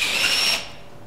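Cordless drill briefly whirring while tightening a part on an IAME Leopard kart engine, a short close burst that cuts off after about half a second.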